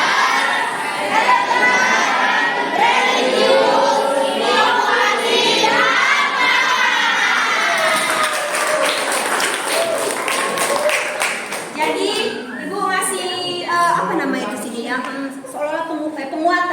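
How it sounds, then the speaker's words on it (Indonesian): Classroom applause during a history teaching practice lesson, mixed with children's chatter and shouting; clapping and crowd noise run throughout, with voices talking over it. "tepuk tangan dulu untuk kita semua"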